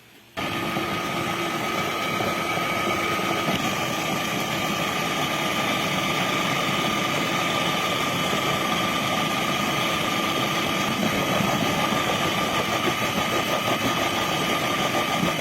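A steady motorized whir from a food processor running continuously, droning with a mechanical hum and slight vibration, no pauses.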